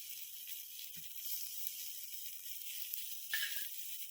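Tomatoes and peanuts fry in a pan on a gas stove for a Rayalaseema peanut chutney, giving a steady, soft sizzle and hiss with a few faint clicks and scrapes.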